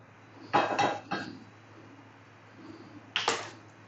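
A non-stick pan is handled on a kitchen counter, giving a few sharp metallic knocks and clatters in two quick clusters with a pause between, close by and without talk.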